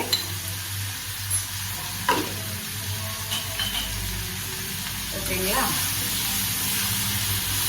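Tomatoes with half a spoon of turmeric powder sizzle steadily in a pan while being stirred for a Kumari-style squid chukka, a continuous close frying hiss with a brief spoken word over it.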